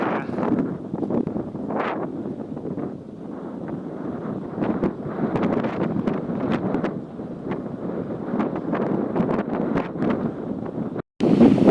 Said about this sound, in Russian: Но ветер больше, ветер.